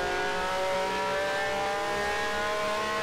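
Honda race car engine in Grand Prix Legends, a loud, high-pitched, sustained whine from nearby with steady harmonic tones, holding near-constant revs throughout, no talking.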